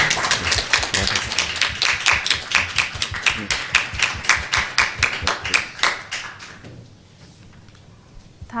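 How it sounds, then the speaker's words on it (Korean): A church congregation claps in a steady rhythmic beat, loud and close, for several seconds before the clapping stops abruptly and the room falls nearly silent. "우리 전달할 때 크게 박수하며 축복해 주시면 감사하겠습니다."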